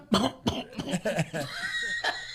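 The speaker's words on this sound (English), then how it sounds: "he was coughing" Several short harsh coughs in quick succession, close and fairly loud, followed by a lighter throaty cough.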